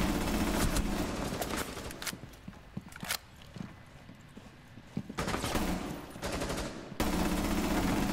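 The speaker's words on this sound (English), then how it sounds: "I actually can't control this gun, Liam." Rapid automatic gunfire from a video game gun, the H15x, rattling in dense bursts with short pauses between volleys, loud and close throughout.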